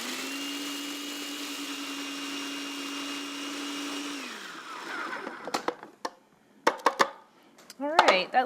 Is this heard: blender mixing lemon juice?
yes